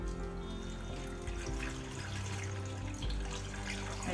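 Salt brine is poured from a container into a jar packed with cucumbers for fermenting, a steady close-up liquid pour and gurgle running throughout with no talk.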